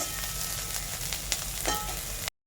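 Bitter gourd, potato and eggplant pieces frying in oil in a pan, a steady close crackling sizzle with a few brief pops and stirs before it cuts off abruptly.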